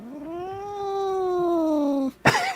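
A cat lets out one long, drawn-out meow lasting about two seconds, loud and close, followed by a short rough noise.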